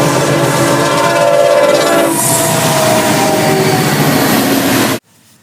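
An oncoming train thunders past close by with its horn sounding and a loud rumbling roar of rolling wagons, cutting off abruptly near the end.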